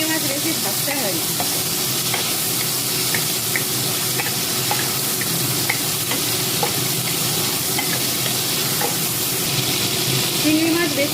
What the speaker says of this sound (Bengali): মাছগুলো উল্টে পাল্টে হালকা করে ভেজে নেব। চিংড়ি মাছ বেশি ভাজতে হয় না।